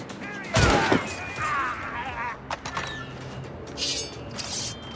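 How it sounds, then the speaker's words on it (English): Gunfire from the video game Assassin's Creed Rogue: a loud close shot bursts out early, then a few sharper cracks follow amid shouting game voices and background noise. "I have a shot, ready to fire."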